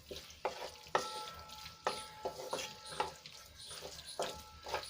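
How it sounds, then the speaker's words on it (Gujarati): Tomato sauce being stirred into a pizza masala frying in a pan, with repeated scraping strokes of a spoon against the pan over a steady low sizzle, close and fairly quiet. "તો અહીંયા આપણે ટમેટાનો સોસ એડ કરીશું, અને સરસ રીતે આપણે મિક્સ કરી લઈશું।"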